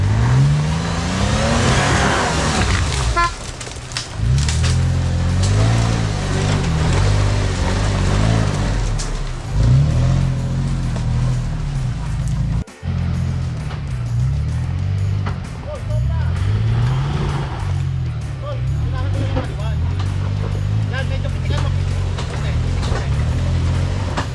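Off-road vehicles with aired-down tires rumble and rev along the Bakalan dirt trail, engine drone rising and falling steadily, with people talking over it throughout.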